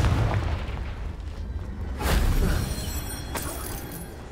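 A Confringo blast spell detonating in Hogwarts Legacy, a broad booming explosion with a sharp burst near the middle and another crack later, over continuous rumbling game noise.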